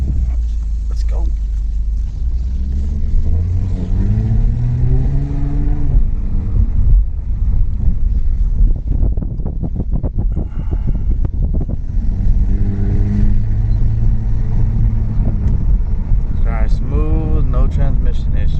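A rebuilt third-generation Acura TL Type S sedan driving, its engine droning and rising through steady acceleration with a rumbling undertone, while people talk inside the car throughout.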